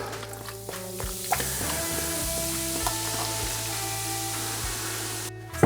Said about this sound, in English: Now we're going to add a bottle of Modelo.